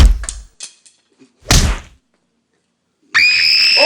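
In a comedy skit, an arrow fired from a bow hits someone. A few soft handling sounds lead to a sharp, close thunk, then a pause and a loud, sustained scream.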